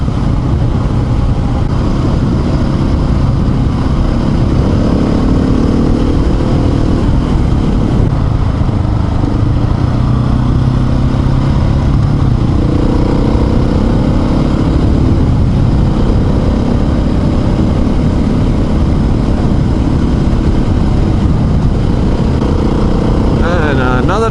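Husky motorcycle riding a dirt road, its engine droning loud and continuous with rumbling wind and road noise throughout.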